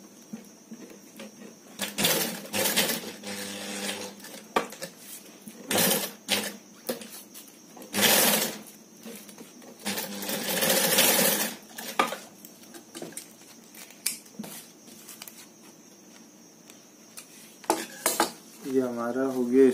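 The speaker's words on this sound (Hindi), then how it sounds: "इसमें चारों तरफ से सिलाई कर लेंगे यहाँ पे रख के" A sewing machine stitches velcro onto black fabric for a handmade purse, running in several short, loud bursts separated by quiet pauses, heard close up with no talk.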